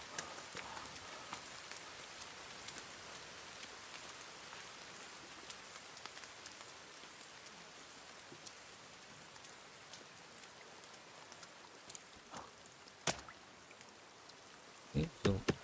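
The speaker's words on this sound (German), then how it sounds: "Es regnet wieder." Steady rain in the video game The Forest patters continuously on a surface, soft and even, with a few sharp clicks near the end.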